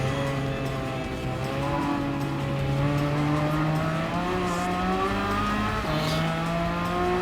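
A race car engine in Gran Turismo 7, close and loud, its pitch climbing steadily through a long gear, then dropping at a shift and climbing again, with a brief tire squeal near the end.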